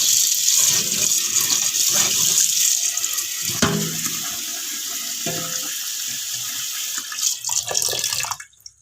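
Live fresh crabs are rinsed under a steady stream of running tap water, close and fairly loud, with occasional light knocks and splashes as the flow eases near the end.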